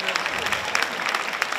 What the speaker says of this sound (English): Let's give our middle school a round of applause.